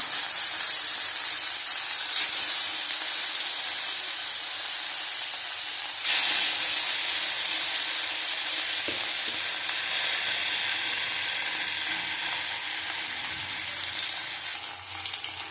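Whole catla fish pieces fry in hot oil in a wok, giving a loud, steady hiss and sizzle that runs unbroken throughout with a brief surge partway through, close up and with no voices.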